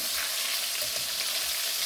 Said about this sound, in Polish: wątróbka dosyć szybko się nam smaży